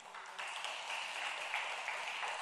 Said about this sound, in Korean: 담배 끊었다는 간증을 전하고 박수 받아보기는 처음입니다.